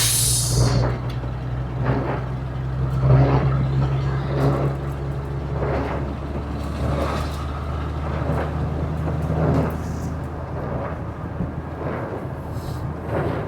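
A Ford Fairlane 500 engine pulling while driving, a steady low rumble with wind and road noise and rhythmic surges as it accelerates, heard from inside the car without talking.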